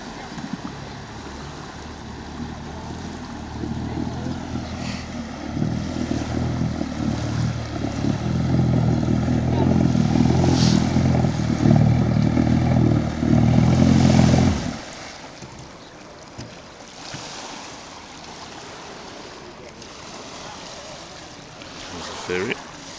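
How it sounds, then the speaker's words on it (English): Ferry boat on the Danube River, its engine a loud, steady low rumble for about fifteen seconds before it abruptly drops away, leaving quieter water and background sound. "There's a ferry."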